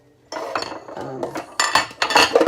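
Dishes and cutlery clatter and clink in an over-the-sink dish rack, a run of close, bright knocks and chinks in irregular bursts that grow busier toward the end.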